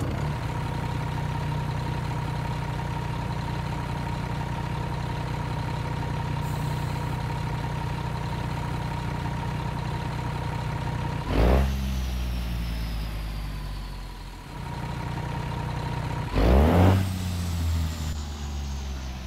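A Peterbilt 379 truck with a Cummins ISM 500 engine idles with a deep, steady diesel rumble and whine, broken twice by sharp hissing bursts like an air brake, heard close with no talk.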